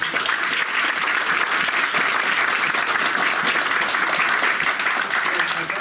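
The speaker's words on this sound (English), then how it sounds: "let's have a round of applause for all of our" Sustained applause from an audience, dense and even clapping at a steady loudness from start to finish.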